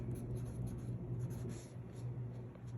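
A pen writes by hand on a paper check, a close, continuous scratchy scribble over a low steady hum, with no talking.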